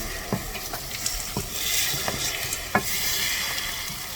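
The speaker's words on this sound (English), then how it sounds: "Cook the eggs slowly." Eggs for a Swiss chard scramble cook slowly in a pan, a soft steady sizzle broken by several distinct scrapes and taps of stirring, with no talking.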